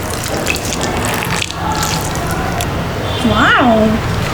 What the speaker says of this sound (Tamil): இப்போது தண்ணி ஊற்றணும்